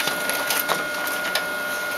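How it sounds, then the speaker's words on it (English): A printer runs continuously, printing Filofax contact pages with a steady mechanical whir, soft clicks and small rhythmic bursts close by, with no talking. "So here is the printer printing."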